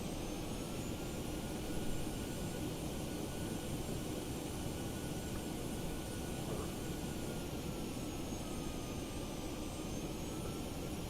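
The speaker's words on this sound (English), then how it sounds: "And then we try to land at Brussels airport." Airliner engine drone from X-Plane 12 on approach to land at Brussels airport with flaps lowered, a steady broadband jet roar with faint high whine, continuous and even throughout with no talk.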